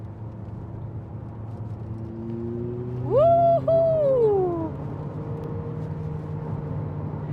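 A new Abarth 500e Turismo electric car drives with a steady low droning hum, and a person whoops briefly partway through.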